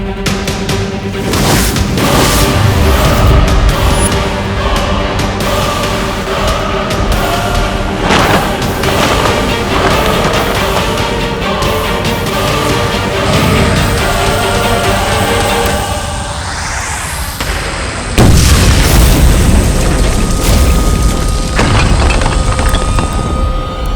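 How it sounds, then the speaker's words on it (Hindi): A magical explosion blast effect from a fantasy TV show booms loudly and repeatedly over dramatic music, with a rising whoosh and a heavy final hit. "तो मेरा धमाका देख।"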